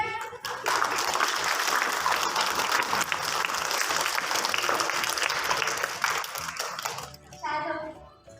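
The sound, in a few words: audience applause at a school assembly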